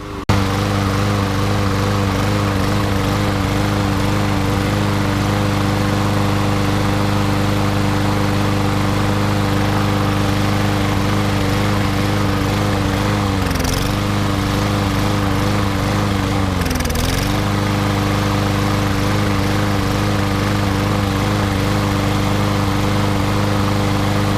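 A free lawn mower's small engine with a carburetor problem runs steadily at a loud idle, its pitch dipping and surging twice near the end.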